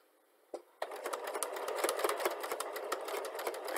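A sewing machine stitches through fabric for a turban headband, starting after a brief click and then running in a steady, fast rhythmic chatter close to the mic.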